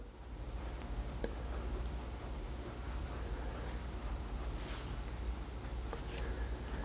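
A pencil drawing a heron's beak on sketchbook paper gives a steady, close, soft scratching that runs without pause, with a few faint ticks on top.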